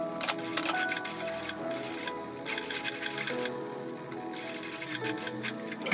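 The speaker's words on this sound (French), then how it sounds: "On va à la machine. Donc, nous allons faire une piqûre nervure, tout le tour, jusque là." A domestic sewing machine runs in rapid mechanical bursts while topstitching a shirt placket seam, its stitching rattle starting and stopping with brief pauses, close and fairly loud with no talking.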